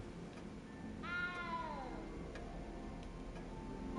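A cat meowing in the Hogwarts Legacy video game, one clear drawn-out meow with a falling tail over a low steady background hum, fairly faint and alone.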